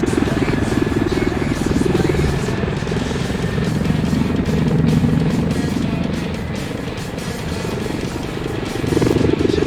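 A Mi-8 helicopter flying an aerobatic solo display at an airshow in Sochi, a loud continuous rotor and turbine roar with rhythmic blade chop that swells and eases as it maneuvers.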